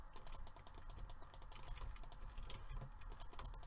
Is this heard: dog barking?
no